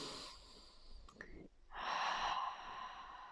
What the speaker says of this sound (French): Je t'invite à respirer profondément,